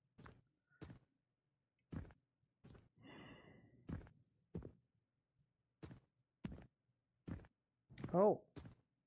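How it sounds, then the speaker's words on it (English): Eerie breathing in a VRChat world comes as sparse, separate inhales and exhales with quiet gaps between them, close and soft, with a drawn-out rasp near the middle and a voiced sigh toward the end. "The breathing. The breathing noises. There's some weirdo noises in here."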